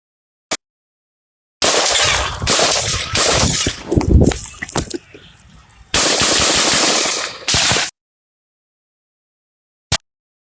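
Gunfire from footage of the Trump assassination attempt: a lone sharp crack, then a long burst of loud rapid shots and crowd commotion with a brief lull in the middle, then silence and one final isolated shot.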